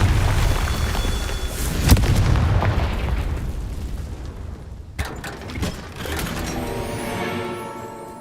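The Confringo fire-blast spell from Hogwarts Legacy, with loud booming explosions and rumbling debris, a sharp blast near two seconds and another around five, then a ringing, crackling tail.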